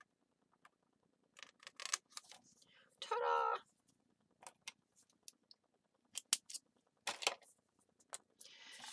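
Scissors cut through a paper file folder in a few short, crisp snips, with one longer sustained cut in the middle, close up and fairly quiet with pauses between.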